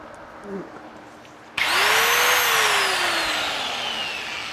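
A DeWalt DW402 angle grinder, bought cheap at a yard sale and needing switch repairs, is quiet at first. It then bursts into a loud, steady high-pitched whine whose pitch slowly sags as it keeps running.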